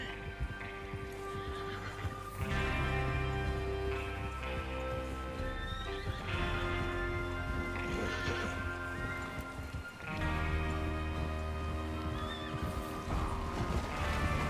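Horses in the video game Red Dead Redemption 2 whinny and neigh repeatedly over steady hoofbeats and a loud, dense background of galloping and rumbling, with several louder surges throughout.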